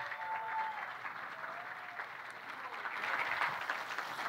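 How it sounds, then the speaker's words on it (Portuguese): An audience at a live hypnosis comedy show applauds steadily, a dense wash of clapping that swells slightly toward the end, with faint background voices. "uma salva de palmas para os nossos astros!"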